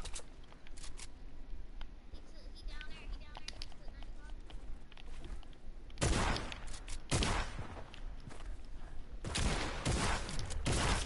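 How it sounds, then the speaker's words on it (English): Video game gunfire, light scattered shots early on, then heavy loud bursts in the second half, with a player talking over the action. "I'm finna shoot him down"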